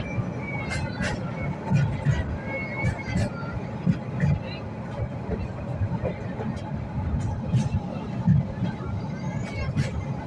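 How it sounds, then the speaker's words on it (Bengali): Steady rumbling and rattling of a moving train slowing down on the Chittagong–Cox's Bazar line in Bangladesh, with faint chatter in the background. "ট্রেনের স্পিড আবার আস্তে আস্তে কমতে শুরু করছে"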